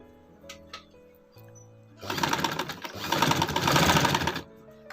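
A sewing machine stitches a gents kurti, a steady dense mechanical whirr running loud for a few seconds after quieter background tones and a brief tap.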